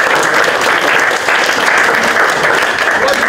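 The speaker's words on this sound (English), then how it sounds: "Round of applause for Kevin for doing his first deal" Loud, close round of applause from a presentation audience, many hands clapping in a dense, even roar that stays strong for several seconds, with no talk over it.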